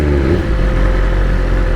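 A motorcycle engine revs in race mode up close, a loud, dense growl that briefly climbs in pitch before settling into a steady roar.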